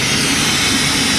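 1999 Formula 280 Sun Sport boat with a freshly swapped engine, idling low with a loud, steady broadband roar and hum that stays constant throughout, heard up close.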